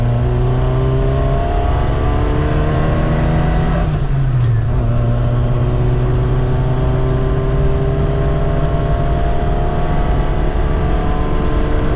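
A lifted Suzuki Samurai's stock 1.3L engine roars steadily as it accelerates from zero to sixty, its pitch climbing, dropping briefly at a gear change, then rising again; loud, close, and continuous, with no talk.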